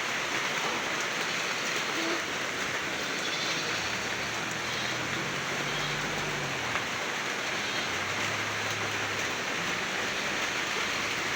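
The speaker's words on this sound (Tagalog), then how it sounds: "Malamig yung ulan, malamig." Heavy rain pours down steadily in a flood-prone neighborhood, a dense, even hiss of water hitting surfaces that carries on unbroken with a faint low rumble beneath and no one speaking.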